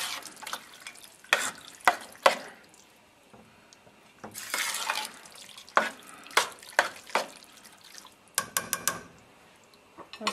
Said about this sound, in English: Stir that up, mix it really well.